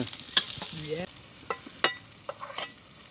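Meat and onions frying in a pan in an outdoor setting, a soft sizzle under scattered scraping and stirring taps of a utensil, close and fairly quiet, with a few brief voice sounds.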